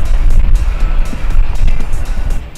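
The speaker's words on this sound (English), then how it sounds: "We're going to crawl up some stairs here and show you how great that ground clearance really is." A Jeep engine rumbles loud and close, working unevenly as the vehicle crawls over a set of stairs at an indoor auto show demonstration. Surges and bumps punctuate a heavy low drone.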